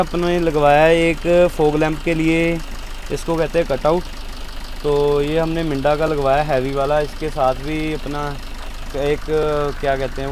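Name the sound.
Maruti Swift Dzire 2018 engine idling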